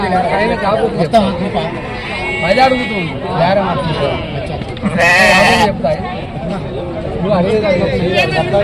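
Goats and sheep bleat repeatedly at a busy Rajarampalli village livestock market, nearby cries rising over a constant hubbub of chatter and people talking.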